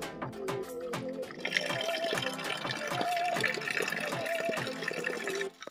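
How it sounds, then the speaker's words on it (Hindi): Water being filled into a container in the mountains, a steady pouring and trickling that stays close and fairly loud throughout and breaks off abruptly near the end. "भरा रहे हो पानी, भरा रहे अभी ये गाइस।"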